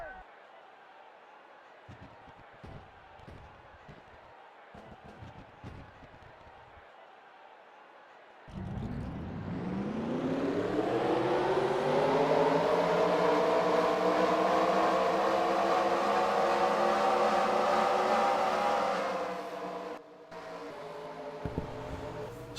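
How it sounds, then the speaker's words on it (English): Race car engines firing up together for the Ford 400 at Homestead, a quiet, busy stretch giving way abruptly to a loud, sustained roar of many engines that holds steady, then cuts off sharply near the end. "Drivers, start your engines!"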